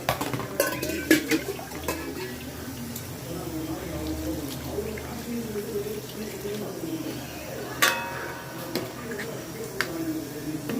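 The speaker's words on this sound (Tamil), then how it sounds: "நெக்ஸ்ட்டு வாட்டர் ஆட் பண்ணலாம்." Water splashes and trickles into a pot of beef curry amid clinks of metal utensils, with a voice talking over the kitchen sounds.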